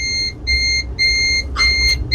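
Multimeter continuity buzzer sounding while probing a capacitor on a OnePlus 10T phone board: four or five clear, steady electronic beeps in a regular on-off rhythm over a low hum, with no talking.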